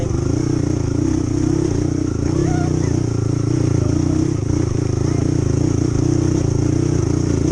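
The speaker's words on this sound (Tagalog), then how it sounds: "Kasi hirap din yung motor natin kapag ahon." A motorcycle engine labors steadily up close climbing a rocky trail, a constant droning rumble with faint clatter, and a voice talks over it.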